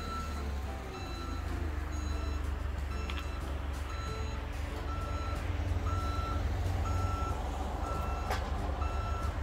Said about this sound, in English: driving the fork truck around